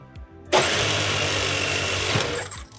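An FRC robot for the CRESCENDO game is enabled and its bare polycarbonate intake rollers spin up with a sudden loud whir, holding steady for about two seconds before spinning down.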